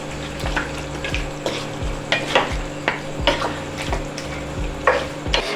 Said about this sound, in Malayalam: എന്നിട്ടൊന്ന് നന്നായിട്ട് ഇളക്കി യോജിപ്പിച്ചതിന് ശേഷം നമുക്ക് വീണ്ടും ഇത് അടച്ച് വെച്ച് വേവിച്ചെടുക്കാം.